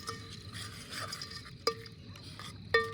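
Maggi noodles topped with wafers being stirred in a pan, with quiet scraping and shuffling strokes and two sharp metallic clinks of the utensil against the pot, fairly faint and without talk.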